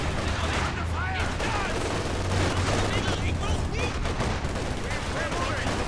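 Continuous battlefield gunfire in Company of Heroes 2, dense overlapping rifle and machine-gun shots with distant artillery-like booms, loud and sustained throughout, with shouted voices mixed in.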